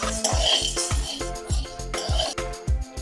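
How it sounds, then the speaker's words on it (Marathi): Chana dal being dry-roasted in a kadhai, stirred steadily so the lentils scrape and rattle against the metal in a repeated rhythm of close, clattering strokes, with no talking. "आता याच कढईमध्ये आपण हरभऱ्याची डाळ चांगली भाजून घेऊयात"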